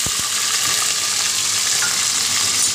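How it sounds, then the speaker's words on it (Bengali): Onion pieces frying in hot oil left from deep-frying, for a dry chilli chicken gravy, give off a loud, continuous crackling sizzle close by, with a couple of soft knocks at the start. "এবার আমি গ্রেভিটা বানানোর জন্য আমি ওই তেলের মধ্যে পেঁয়াজের টুকরোগুলো দিয়ে দেবো"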